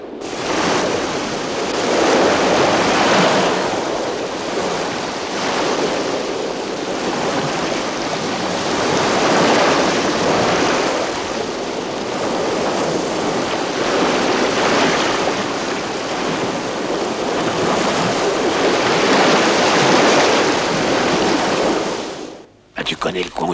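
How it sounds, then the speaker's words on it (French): Sea waves crash and surge in a loud, continuous roar with slow swells of rushing surf and wind, sustained for over twenty seconds before cutting off abruptly near the end. "Tu sais bien que ces vagues sont très meurtrières."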